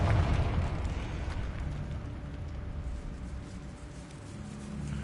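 A Confringo blasting spell from Hogwarts Legacy bursts in a deep, rumbling blast at the start, its roar slowly fading into a lingering low murmur of the game around it.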